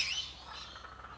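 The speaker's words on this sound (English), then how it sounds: "That's a kookaburra." Faint kookaburra call in a forest near a bird sanctuary, a brief harsh squawking burst at the start that fades into softer chattering tones, distant and quiet.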